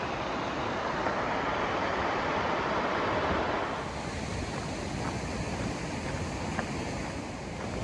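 River water rushing steadily along a hiking trail, a continuous broadband wash that stays loud throughout, mixed with wind buffeting the microphone.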